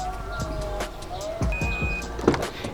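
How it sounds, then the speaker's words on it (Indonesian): The electric tailgate of a 2022 Mazda CX-8 opening after a kick at the sensor: a close mechanical whirr with a short rising motor whine and a few clicks and knocks, with people talking throughout. "dia udah menggunakan kick sensor atau kita bisa tendang untuk buka si bagasinya"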